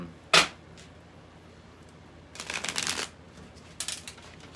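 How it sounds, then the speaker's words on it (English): Tarot cards shuffled close by: one sharp riffle snap, then after a pause a longer papery shuffling burst and a shorter one near the end. "We're gonna do one more shuffle."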